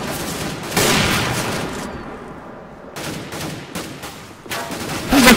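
Rapid bursts of automatic gunfire from Counter-Strike: Global Offensive in an Arms Race match, loud and close, with short pauses between volleys and a final burst at the end.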